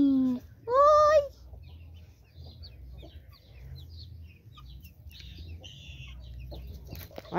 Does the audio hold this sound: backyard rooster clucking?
yes